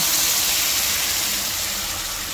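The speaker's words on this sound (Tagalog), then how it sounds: "Naglalagay tayong konting tubig." Water poured into a pan of cooking tomatoes produces a steady, loud rushing hiss that continues unbroken throughout.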